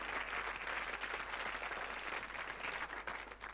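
A TV studio audience at a 1988 magic show applauds a juggling-style trick, a dense, steady wash of clapping heard at a distance throughout.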